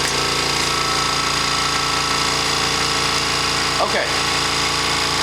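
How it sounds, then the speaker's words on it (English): Compressor on a RYO EZ-Fill cigarette-making machine running with a loud, steady mechanical drone and hum, constant throughout; a voice says a word partway through. "until the compressor comes on, so that you get a chance to hear the noise level of the compressor"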